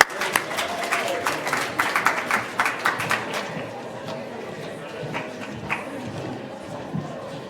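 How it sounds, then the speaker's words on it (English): Scattered applause from a small audience at a cannabis marketing panel, clapping for about three seconds with sharp individual claps, then fading into low room murmur with a few stray claps. "let's give them a round of applause"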